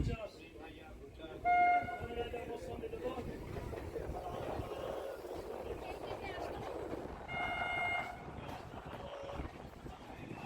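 A Bangaon-Ranaghat local passenger train rumbles and rattles along the track in a steady, continuous drone, with brief louder bursts of clatter and faint voices in the carriage.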